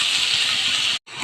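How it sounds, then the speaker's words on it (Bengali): Chopped onion hits hot oil seasoned with fenugreek seeds, making a loud, continuous hiss at close range that breaks off abruptly near the end before resuming. "দিয়ে দেবো পেঁয়াজ কুচি"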